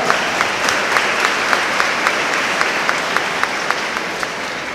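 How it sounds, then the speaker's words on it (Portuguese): Church congregation at a novena night in Salvador, Bahia applauding continuously: a dense, steady wash of many hands clapping, with a few sharper individual claps standing out rhythmically throughout, no speech over it. "palmas para os irmãos de Valença"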